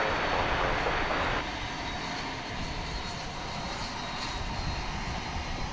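A Boeing 767 airliner flies past at DFW airport at night, a steady broadband engine roar that starts slightly louder and holds at a constant distant level, with no voices.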